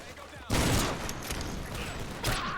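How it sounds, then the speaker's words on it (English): PTRS anti-tank rifle shots in a Modern Warfare 2 sniper mod, a loud sharp blast with a whooshing, rocket-like tail, followed by another report near the end over game ambience. "PTRS sounds like a bottle rocket going off"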